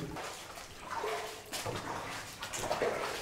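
Wading through shallow water inside a closed-off underground tunnel, with splashing steps that come and go in a few irregular bursts, close and fairly quiet, with no talking.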